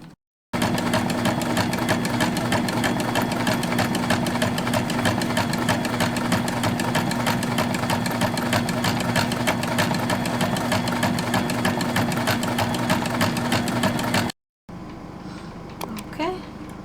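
Sewing machine stitching sail fabric, running continuously and loudly at close range with a steady rapid mechanical whir and hum for about fourteen seconds, then stopping abruptly, followed by quieter handling sounds.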